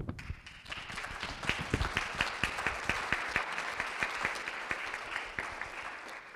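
Applause from the audience at a book presentation on Castellamonte ceramics in Vidracco, a dense run of claps rising quickly and holding steady throughout, close and fairly loud with no talk.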